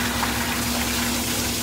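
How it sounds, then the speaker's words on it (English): Water runs steadily while flushing out a big dog's ears during grooming, a continuous close hiss and gush with a faint pump-like hum underneath and no pauses. "I flush the ears out with the water"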